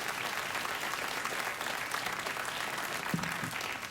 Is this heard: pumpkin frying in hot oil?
no